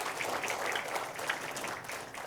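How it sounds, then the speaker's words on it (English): Audience at an international conference on complex systems gives a round of applause, a dense, even patter of many hands clapping at moderate distance, fairly soft and sustained for the whole stretch. "Can we have a round of applause for all of them?"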